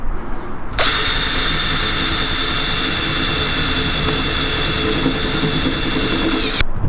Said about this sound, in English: we did manage to get the drill under the roof just